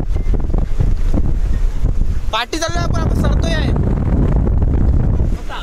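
Strong stormy wind roars across a microphone near boats anchored at sea off Mumbai, a heavy steady rush with gusts and someone talking over it.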